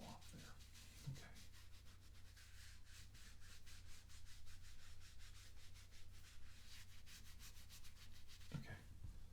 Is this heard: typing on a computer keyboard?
no